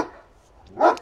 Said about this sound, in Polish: nie szczekaj na kolegę